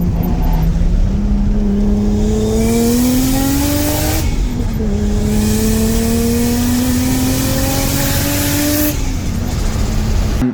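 A loud Nissan R33 Skyline turbo engine revving hard through repeated rising gear pulls, with a shrill screaming screamer-pipe exhaust note and brief drops between shifts.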